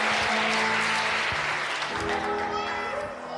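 A church congregation applauds in a dense, steady wash of clapping that fills the space, with a voice speaking over it near the end.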